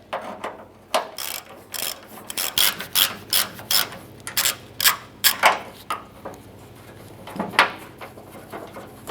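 A hand ratchet loosens the tailgate cable bolt on a 2004-2012 Chevrolet Colorado, close repeated bursts of clicking pawl strokes in an uneven rhythm with short pauses between swings.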